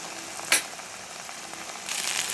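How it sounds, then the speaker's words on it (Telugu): Okra pieces fry in hot oil with a soft, even sizzle, one sharp crackle near the start, and the sizzle growing a little louder toward the end. "ఆయిల్ వేసుకొని బెండకాయ ముక్కలు వేసుకొని ఆయిల్లో ఫ్రై అవ్వనివ్వాలి."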